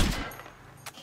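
Gunfire in Ghost Recon Breakpoint during a Behemoth fight: a loud opening shot with a booming low end, then a fainter crack about a second later.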